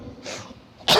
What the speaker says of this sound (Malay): Terbatuk sikit.